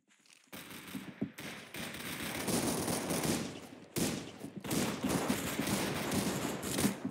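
Dense bursts of video game gunfire rattle in rapid, continuous volleys, loud and close, with a brief pause near the middle before the shooting resumes.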